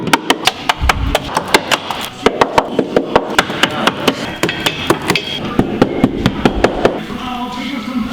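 A hammer pounds repeatedly on a Renault 5 car during a build, a fast, steady series of loud, sharp metallic blows close by, some twenty strikes in a row with brief pauses, faint background voices.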